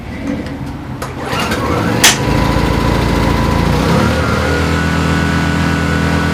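A Yamaha EF1000is portable generator is pull-started with a sharp rattle, then its small engine catches and settles into a loud, steady running drone close by.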